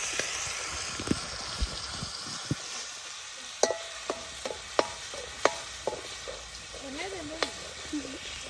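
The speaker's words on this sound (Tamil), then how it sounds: "பாதி இஞ்சி பூண்டு பேஸ்ட்டை தான் போட போகிறோம் சரியா சேர்த்துட்டு அம்மாவே என்ன வேகமாக கொடுக்குது அதை நல்லா கிண்டு விடாது" Ginger garlic paste sizzles softly in a pan while being stirred, with scattered utensil scrapes and clicks over a faint frying hiss; a voice is briefly heard near the end.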